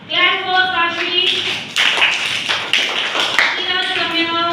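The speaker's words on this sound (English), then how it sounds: "E-A-T-E. Clap for Kashmi" Classroom children in an English flashcard lesson break into a burst of rapid, close, overlapping hand claps lasting a few seconds, with an adult voice speaking before and after the applause.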